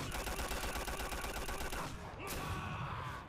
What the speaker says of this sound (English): I love how certain people have punches and kicks that just sound like gunshots.